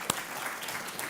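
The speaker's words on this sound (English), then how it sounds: "Round of applause." Audience clapping at a public food event as a chef and author is welcomed onstage, a soft, steady patter of applause from a crowd, fairly distant and low in level.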